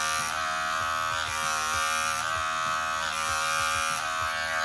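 An electric barbering hair clipper runs steadily up close, a continuous loud motor buzz with no talking.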